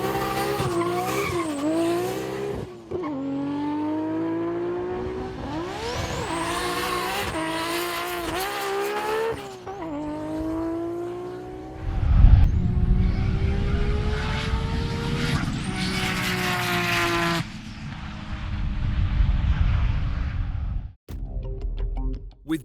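A Nissan R33 GT-R makes a drag racing pass down a runway, its engine roaring loud and close through rising gear-shift sweeps, with a burst of tyre noise midway and a brief cut near the end.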